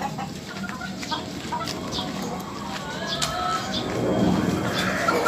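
A red Kelso cross gamefowl stag clucks in short bursts amid ambient farmyard noise, moderately close, with scattered sharper calls and no talk.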